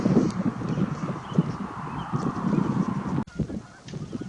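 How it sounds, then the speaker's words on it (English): A flock of geese honking repeatedly across placid water at sunrise, a busy overlapping chorus of calls at moderate distance, with no talking. "I can hear a bunch of geese."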